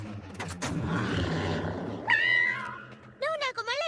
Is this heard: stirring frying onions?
no